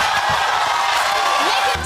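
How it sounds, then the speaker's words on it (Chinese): A studio audience at a talk show jeers and cheers loudly through a brief, continuous roar as two guests fight on stage. "现场观众纷纷起哄"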